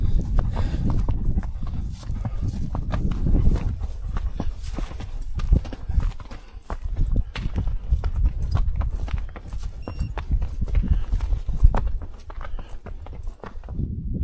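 A ridden mule's hooves clip-clop steadily across rough ground outdoors, a continuous uneven rhythm of close hoof strikes with rustling and occasional snorts, no talking.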